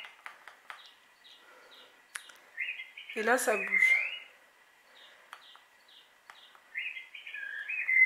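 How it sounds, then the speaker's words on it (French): Recorded birdsong chirps and whistles from a baby mobile's small speaker, thin and repetitive, while a person briefly speaks over it and small clicks sound. "Le bruit des oiseaux."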